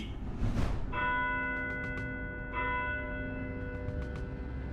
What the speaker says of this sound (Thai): ใครเป็นคนตีระฆังสวรรค์กันนะ